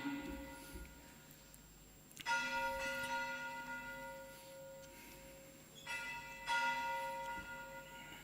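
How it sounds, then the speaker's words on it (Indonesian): An old church bell rings out in two strokes, each leaving a long shimmering decay, heard alone at moderate distance. "Kita akan dengarkan bunyi lonceng gereja kita yang tersimpan lama ini."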